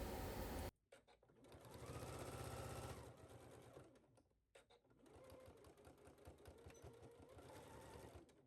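Sewing machine stitching down a shirt collar, a close mechanical whir running in two sustained bursts separated by a brief pause, quiet overall with no talking.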